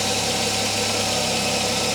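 Citroen CX GTi engine idling with a squeaky belt, a steady, close, loud, even idle rumble with a continuous mechanical hum throughout and no talking.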